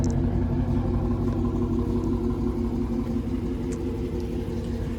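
A widebody Dodge Charger RT with all-wheel drive driving late at night, its engine giving a steady, close rumble from inside the car with little change in pitch.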